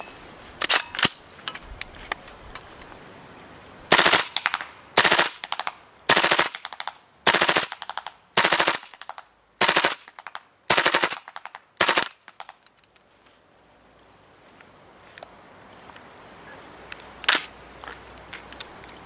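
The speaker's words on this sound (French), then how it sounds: "M4 Marui, chargeur entier, full auto, 30 mètres." A Tokyo Marui M4A1 MWS gas blowback airsoft rifle fires full auto at a 30-metre range, rapid cracking bursts in a series of short strings, loud and close, with a few single shots trailing off.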